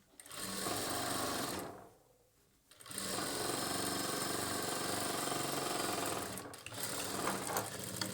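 Close, steady whirring of a sewing machine running slowly along the edge of a churidar bottom, stopping for under a second near the start, then sewing continuously to the end.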